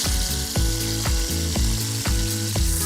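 Steaks sizzle in a hot pan and are turned once browned, a continuous bright hiss beneath rhythmic background music that pulses in an even beat.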